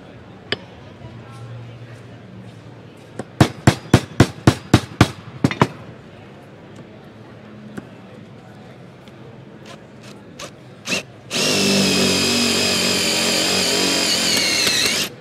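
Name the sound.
drilling into steel with Bad Dog carbaloid-tipped drill bit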